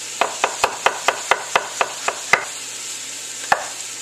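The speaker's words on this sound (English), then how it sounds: "I'm going to take an onion real quick, and I'm going to julienne the onion" A knife julienning an onion on a cutting board gives a quick run of about ten even, crisp chops, then a pause with two more isolated strokes, close and distinct.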